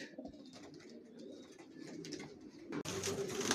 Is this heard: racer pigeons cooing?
yes